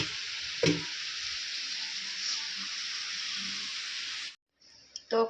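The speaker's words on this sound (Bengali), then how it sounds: "এই যে আলুগুলো ভাজা প্রায় হয়ে গেছে" Potatoes fry in oil in a kadai, making a bright, steady sizzle with a couple of clinks from stirring, then a short pause and the sizzle resumes.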